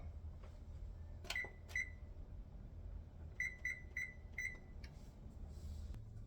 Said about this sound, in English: Timer's up.